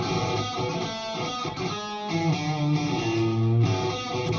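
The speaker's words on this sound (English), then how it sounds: "I sent a direct signal out to my Kemper, which sounds like this." Electric guitar sent as a direct signal into a Kemper amp, playing driven, sustained rock chords with a bright, dense tone, loud and continuous throughout, with no talking.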